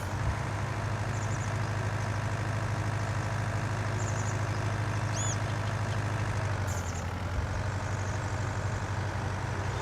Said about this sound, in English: I don't think this tractor will be able to go down there